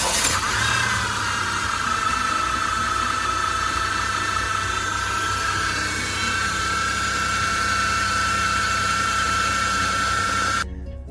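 A 2008 Dodge Grand Caravan's 3.3L engine runs steadily just after a head gasket replacement, a constant close hum with a bright whine on top that cuts off abruptly near the end.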